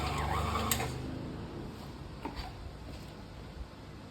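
Dough mixer machine kneading enriched brioche dough, a quiet steady mechanical whir with faint ticks and knocks, fading slightly as it runs.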